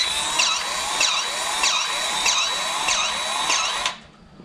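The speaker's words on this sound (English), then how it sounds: "Got the Dewalt 20 volt greaser with the LockNLube tip." A DeWalt 20 volt cordless grease gun with a LockNLube tip whirs steadily up close, its pump stroking in an even rhythm about twice a second before it cuts off abruptly.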